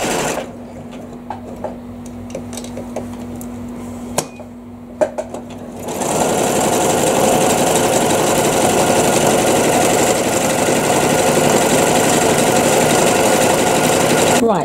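A sewing machine stitches fabric. A quieter low hum comes first, then a loud, steady, continuous whirring runs near and unbroken to the end.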